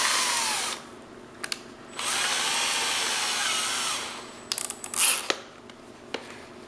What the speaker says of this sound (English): I'm going to use that wire wheel.